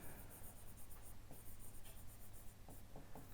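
Chalk or marker writing on a board during a physics lecture on thermodynamics: faint, steady scratchy strokes with a few short taps, quiet and alone, no talking.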